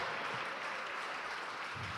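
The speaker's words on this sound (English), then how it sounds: "Let's have a round of applause for Luis, the Natural Moreno." A crowd at a 2012 Seattle wrestling event applauds a wrestler's ring introduction, a steady wash of clapping that holds at even strength from start to finish with no voices on top.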